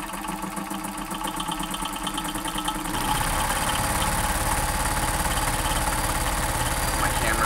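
A vintage Kenmore 148.1215 sewing machine stitching through two layers of cotton, a quieter start that jumps into a loud, steady, fast mechanical whir and rattle from about three seconds on, continuing close and uninterrupted.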